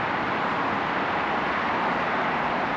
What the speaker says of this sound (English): I remember the wonderful traffic noise